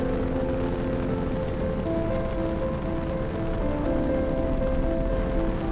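Rain falls steadily on a vehicle on a cold mountain road, a dense, even patter blended with a low rumble of driving, continuous and close.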